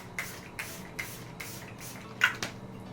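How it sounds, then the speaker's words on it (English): A One Hit Prime Set and Refresh Dewy Finish face mist by Item Beauty sprays several times onto a face, giving short close bursts of fine hissing mist in a steady rhythm with no talking. "spray it with this One Hit Prime Set and Refresh Dewy Finish Face Mist"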